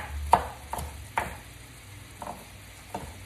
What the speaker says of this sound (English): let me find me a spoon to stir this up with